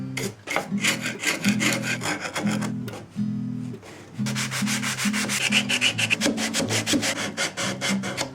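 Old glue is scraped and rubbed off the neck heel of a 1944 Levin Model 47 acoustic guitar, rapid rasping strokes in bursts with a brief pause, close and loud.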